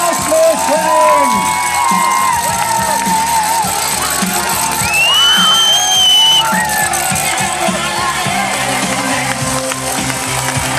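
Crowd at the Roth triathlon finish line in 2010 greeting the winner, Rasmus Henning: loud, continuous cheering and whooping with rattles and shouts throughout, close and dense.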